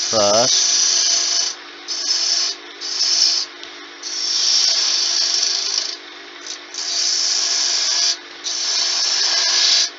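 A wood lathe rough-turns a baby rattle between centres, the gouge cutting in bursts of loud, bright hissing shaves with short gaps as the tool lifts off. A brief voice opens the clip.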